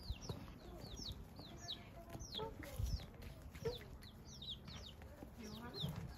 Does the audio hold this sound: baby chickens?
yes